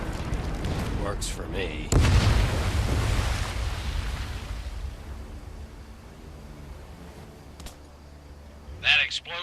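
A wartime explosion in the Medal of Honor VR game, a loud broad boom that swells and rumbles for several seconds before slowly fading, with a brief spoken remark and later sharper sounds over the decay.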